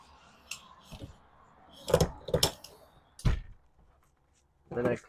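Several short clicks from a privacy screen being closed over the acrylic window of a new 2025 Keystone Outback RV camper. The clicks come in small bursts with quiet gaps between them, and someone speaks nearby in between.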